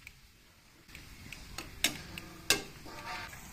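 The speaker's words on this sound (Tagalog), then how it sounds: "Haluin at lutuin ang talong." Eggplant being stirred and cooked in a pan of water, pepper and seasoning for tilapia adobong paksiw: quiet sizzling with a few sharp utensil clicks against the pan, two louder taps standing out.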